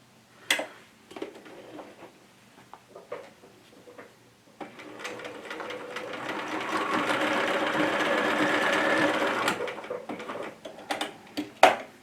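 A sewing machine stitches elastic onto scrunchie fabric. Scattered handling clicks and short taps come first, then a steady, close mechanical whir of stitching runs for about five seconds before stopping, followed by more clicks.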